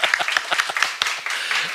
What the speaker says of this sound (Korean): 우리 박수를 좀 환영하도록 하죠